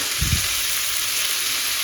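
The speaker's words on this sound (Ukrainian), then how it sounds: "буду тушити капусточку" Cabbage stewing in a pan on the stove, stirred with a spoon: a soft, steady sizzle runs throughout, with two brief scraping stir sounds near the start, close and moderately loud, with no talking.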